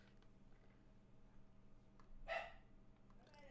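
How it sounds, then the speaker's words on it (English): A single faint dog bark sounds at a distance over quiet low background hum, brief and isolated. "Another dog's barking."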